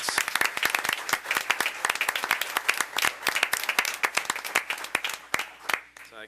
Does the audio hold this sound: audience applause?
yes